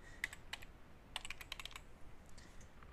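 Fingers tap on a computer keyboard while a new admin password is entered in phpMyAdmin, a short cluster of crisp key clicks, some quick and bunched, then a few sparse taps against quiet room noise.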